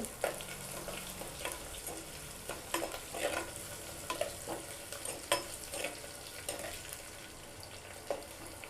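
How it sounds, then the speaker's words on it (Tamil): Crushed garlic frying in oil in a clay pot for fish gravy: a steady close sizzle with repeated scraping and clinking stirs, with no talking. "நசுக்கி வச்ச பூண்டு நல்லா பொரியுது"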